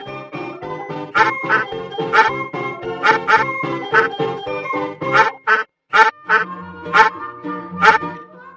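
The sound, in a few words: duck quacking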